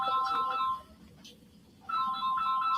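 A phone ringtone plays loudly and up close, a bright repeating electronic melody that stops for about a second and then starts again.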